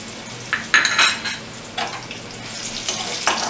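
Mango paste goes into puti fish frying in a hot pan, bringing a steady sizzle with a few sharp clinks of a spoon against the metal and bursts of stirring, close and fairly loud.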